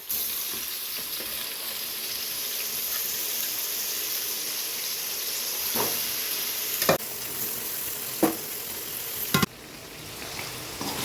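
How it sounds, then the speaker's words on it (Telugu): Pressure-cooked mutton frying in oil for biryani, giving a steady close hiss of sizzling that runs through the whole stretch. Several sharp clinks of a stirring spoon sound against the pan. "ఇప్పుడు ఈ ఆయిల్లో దీన్ని మంచిగా ఫ్రై చేసుకోవాలి"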